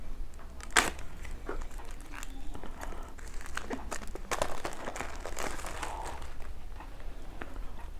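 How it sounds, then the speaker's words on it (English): Apple AirPods Pro box packaging being unwrapped: close, intermittent crinkling and rustling of paper and plastic with a few sharper crackles, fairly quiet, no talking. "So let's unwrap this up and let's see what do we get."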